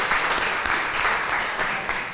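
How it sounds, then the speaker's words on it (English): Audience applause at a Principal for a Day reception at the Challenger Learning Center, a steady wash of many hands clapping for about two seconds without pause. "Can we give one more hand and a round of applause for everybody that served today?"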